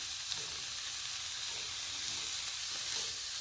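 Double bean sourdough pasta soup being stirred in a pot, a steady faint hiss and sizzle with soft scraping, no voices.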